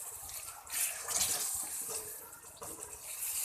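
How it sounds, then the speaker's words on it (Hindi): A splash of water hitting frying green masala for fish curry, a gushing, hissing burst that swells and fades, then sizzles on in waves, close and fairly loud. "हल्का सा पानी का छींटा लगाऊंगी।"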